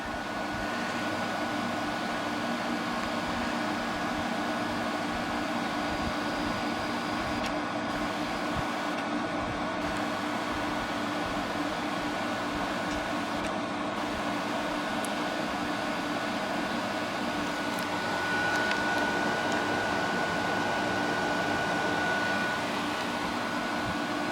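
A 2000 Hampton Bay/Fedders Glacier Breeze HBQ050 air conditioner compressor running after reassembly, a steady, moderately loud hum and whir with a faint tonal whine, unchanging throughout with no talking.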